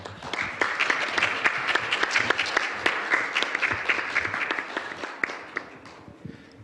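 An audience at a diplomacy forum in Jeju applauds to welcome a speaker, with crisp, distinct claps rising in a full round that gradually thins out and tapers off.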